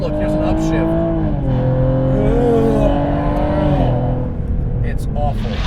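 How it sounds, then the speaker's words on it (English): Renick Performance Cadillac ATS-V accelerating in manual mode, engine pitch climbing then dropping at an upshift, heard from inside the car with a driver talking over it. "And look, here's an upshift."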